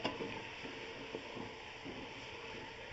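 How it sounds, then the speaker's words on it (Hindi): Masala frying in a pot while chicken biryani is being cooked, a soft continuous sizzle with faint stirring scrapes, quiet and steady with no talking. "हमने अब भूनते हुए ही सारा खाना पकाना है।"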